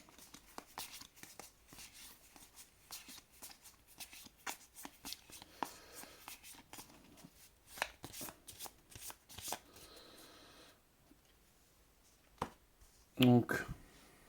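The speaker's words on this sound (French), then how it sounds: "on va mélanger aussi son deck" Deck of cards for the Mage Noir card game riffled and shuffled repeatedly, a run of crisp fluttering bursts at close range with quieter handling between and a louder snap near the end; a voice talks faintly underneath.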